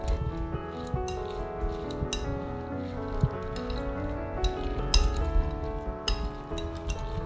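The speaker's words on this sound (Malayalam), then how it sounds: "ഇനി കോളിഫ്ലവർ ഡ്രെയിൻ ചെയ്ത് വെച്ച കോളിഫ്ലവർ ഇതിലേക്ക് ഇട്ടൊന്ന് മിക്സ് ചെയ്തെടുക്കാം." Drained cauliflower being mixed into batter in a bowl, with a run of wet, clinking scrapes and squishy stirring strokes close up, with no voice over them.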